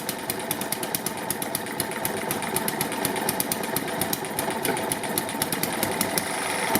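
A small model hit-and-miss engine fires in a rapid, steady rhythm of sharp mechanical beats, running continuously and close by without any talking.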